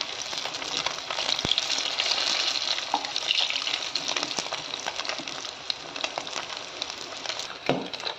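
Rohu fish pieces fry in hot oil for an Odia-style masala curry, giving a steady, close, crackling sizzle with occasional sharper pops throughout.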